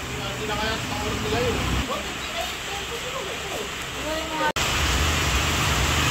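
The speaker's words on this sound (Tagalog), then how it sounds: "Malakas po ang ulan. Ngayon po ay may bagyo." Dense, steady hiss of heavy rainfall fills the scene throughout, with talking carried on over it.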